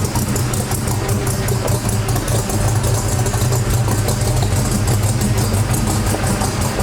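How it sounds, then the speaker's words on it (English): A 1965 Chevy C10 pickup engine idling low, a loud close steady rumble with a fast pulsing beat and no voices over it. "The idle's turned down pretty low on this thing. Sounds like it might die."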